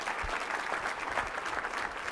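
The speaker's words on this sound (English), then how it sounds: "Let's give all ourselves a round of applause for that" Steady, moderately faint applause from an audience in a presentation setting, a dense continuous patter of many hands clapping.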